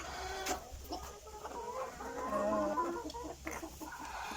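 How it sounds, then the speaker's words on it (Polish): Chickens and a young guinea fowl cluck and chatter softly while eating breakfast in a coop run, a close mix of overlapping clucks and short calls over quiet background. "Teraz sobie jedzą śniadanko kurki."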